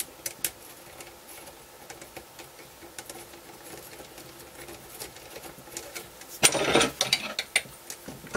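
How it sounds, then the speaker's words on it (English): Small bolts on an FPV drone monitor bracket being tightened with an Allen key, giving quiet clicking and ratcheting mechanical taps close by, with a louder burst of rattling handling near the end. "And then just tighten them up with my Allen key."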